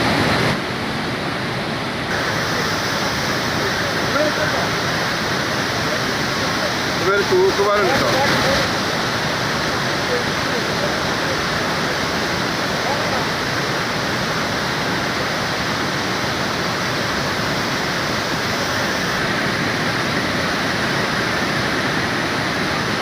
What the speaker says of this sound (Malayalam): അരിപ്പാറ എന്ന് പറയുന്ന വെള്ള വെള്ളച്ചാട്ടമാണ്